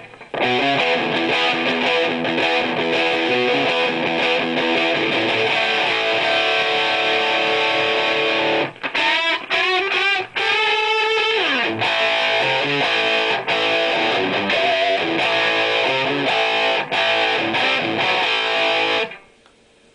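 An electric guitar plays through a Lenahan London Lead amplifier with heavy distortion, loud and saturated, with sustained lead phrases, bends and brief pauses before stopping near the end.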